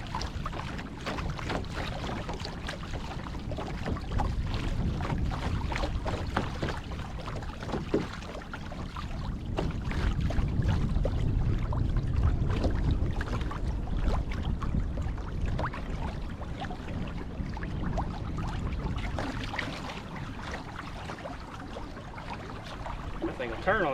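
A 2021 Hobie Mirage Compass pedal kayak moves steadily through slight chop, with continuous water wash and splashing against the hull under steady wind noise, near and fairly loud throughout.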